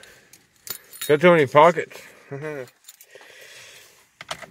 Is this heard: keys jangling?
yes